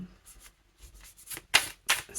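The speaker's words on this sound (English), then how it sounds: "I'm just going to give these a quick shuffle" Tarot cards are shuffled in a few quick, soft riffling bursts at close range, quiet and isolated.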